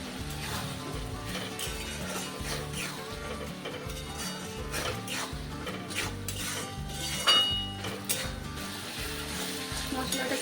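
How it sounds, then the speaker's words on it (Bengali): Masala with salt, tomatoes and onions for a chicken curry sautés in a pan, a steady sizzle under repeated scraping and stirring strokes, with occasional clinks of utensil on metal. "মশলাটা আমি ভালোভাবে কষিয়ে নেব। এরপর লবণ দিয়ে দিচ্ছি যাতে টমেটো ও পেঁয়াজগুলো ভালোভাবে গলে যায়।"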